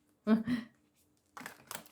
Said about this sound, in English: And this deck, being so old, really hard to shuffle.